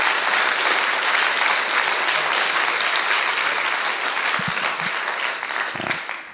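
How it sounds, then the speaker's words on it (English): Audience applause for sponsors at a university Three Minute Thesis competition, steady dense clapping from a large crowd that tapers off near the end. "we can all give a round of applause to our sponsors"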